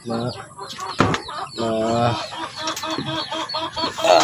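Chickens cluck and squawk close by in uneven bursts, a laying hen among them, with some wing-flapping noise mixed in.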